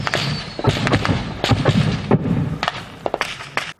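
Mortar shells burst near Ukrainian frontline positions at the Butivka mine in the Donetsk region at night, a string of sharp, loud, booming impacts arriving in quick, irregular succession over a constant rumbling background.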